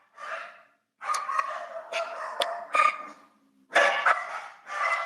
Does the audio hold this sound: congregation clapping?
no